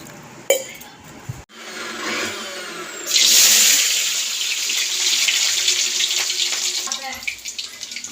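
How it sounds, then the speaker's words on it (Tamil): Water is poured into a pot of mutton curry as it cooks, a steady splashing pour that starts after some clatter and runs on under a voice talking. "அதோட கொஞ்சமாக தண்ணி சேர்த்து நம்ம வேக வச்சுக்கிறோம்"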